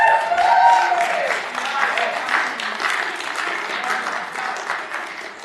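Applause from an audience at a county commission meeting, a broad wash of clapping that starts fairly loud and tapers gradually over several seconds, with some crowd murmur mixed in.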